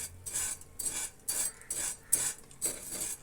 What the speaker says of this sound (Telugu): ఈ విధంగా దోరగా ఫ్రై చేసిన తర్వాత